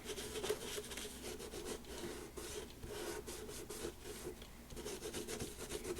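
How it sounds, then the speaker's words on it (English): Paper laid over an embossing stencil is rubbed with a tool, making a continuous, close, dry scratchy rasp in short back-and-forth strokes at low volume. "So I'm just rubbing it over."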